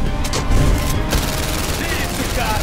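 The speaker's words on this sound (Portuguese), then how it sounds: "Atira pra caixa de munição." Gunfire aimed at an ammunition box in the PSVR game London Heist, a dense burst of shots and booms packed into the first second, then a continuous rumbling din that keeps going at steady loudness.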